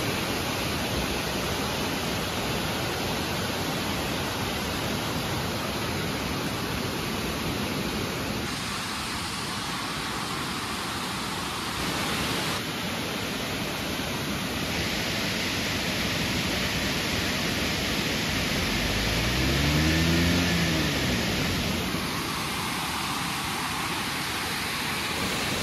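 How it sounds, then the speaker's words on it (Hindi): Rushing water at a waterfall near a village outside Udaipur, a steady broadband roar filling the whole clip without a break, fairly close and constant, with a brief low rumble near the end. "आवाज सुन रहा है पानी की कितनी तेज है?"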